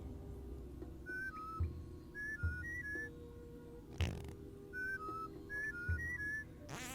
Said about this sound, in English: you have to whistle to get past these guys